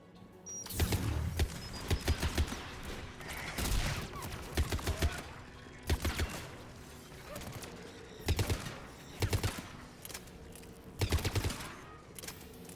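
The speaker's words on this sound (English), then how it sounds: "AA guns ahead of us." Anti-aircraft guns in Mass Effect fire in heavy repeated bursts, loud thumping volleys spaced a second or two apart over a continuous mechanical background.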